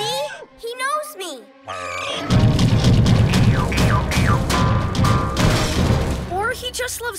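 A cartoon dinosaur smashes things, giving loud booming crashes and thuds that fill most of the stretch, while children's voices talk before and over the din.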